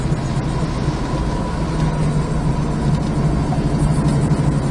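A 1970 Dodge Challenger's engine runs steadily while the car drives along, a continuous close rumble with road noise and no voices.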